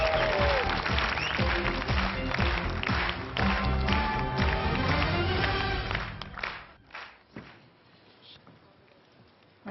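Studio audience applause on a French TV game show, loud and dense clapping for about six seconds before thinning out into a few scattered claps and near silence.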